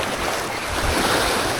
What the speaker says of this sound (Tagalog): Malakas yung ahay. Grabe yung hangin.